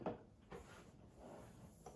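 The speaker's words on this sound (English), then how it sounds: "So we're just gonna open that drawer up." A CPAP cleaner's tray drawer slides open with a few soft, quiet knocks and a short scrape, close up, with no talk.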